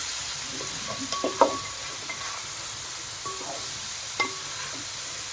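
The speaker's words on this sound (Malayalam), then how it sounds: "ഇതുകൂടെ ഒന്ന് ഇളക്കി കൊടുക്കാം." Three carrots stirred into a mixed pickle in a pan, giving a soft, steady sizzle with a few light scrapes and clinks of the spoon against the pan, quiet and close.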